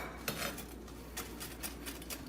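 Garlic being finely chopped with a knife on a seasoned cutting board: a few quick, fairly close taps and clicks spaced through the stretch, with no one talking.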